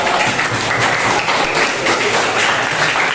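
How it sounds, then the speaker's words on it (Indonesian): A classroom of students applauds together during a teaching practice lesson, steady loud clapping filling the whole moment without pause. "Iya, kasih tepuk tangan semuanya."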